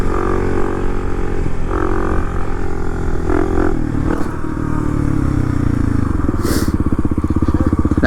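Dirt bike engine revving hard on a trail during a wheelie, a loud continuous buzzing drone that rises and falls with throttle changes, with clattering and scraping from the ride mixed in close up.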